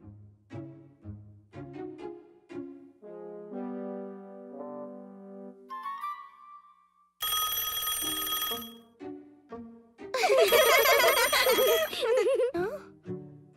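Telephone ringing in the Angelina Ballerina children's cartoon: two loud, sustained bell-like rings stand out after light music and cartoon voices, with a brief pause between them.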